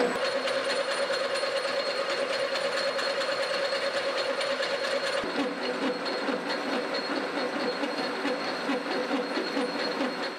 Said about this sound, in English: watching the lathe do all the manual work is so therapeutic